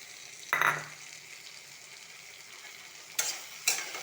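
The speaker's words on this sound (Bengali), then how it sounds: "টমেটো কুচিটা দিয়ে আমি হালকা করে একটু নেড়ে নেব।" Chopped capsicum and tomato with turmeric and Kashmiri chili powder are stirred in a pan, giving three short scraping stirs over a faint, steady sizzle.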